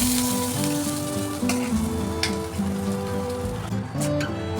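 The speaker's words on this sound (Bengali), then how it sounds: "এবার আমি এর মধ্যে চাউমিনগুলো দিয়ে দেবো।" Chowmein noodles sizzle and crackle steadily in a hot oiled pan with onion as they are stir-fried, a close, continuous frying hiss with scraping stirs and faint tonal hum underneath, no talking.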